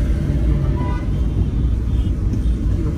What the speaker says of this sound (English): What's all this traffic about?